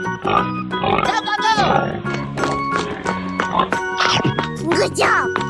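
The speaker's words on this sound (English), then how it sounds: "Pig." A pig oinks in a 3D animal video game, short grunting calls mixed with busy game music and a voice talking over them.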